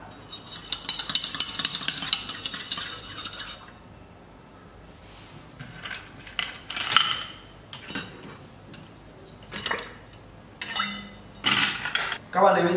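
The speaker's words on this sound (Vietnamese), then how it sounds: "Các bạn cần trộn đều trước khi làm nguội bằng đá." A utensil stirs and clinks against a container of milk tea mixture, with bursts of scraping and clinking separated by pauses, close and fairly loud.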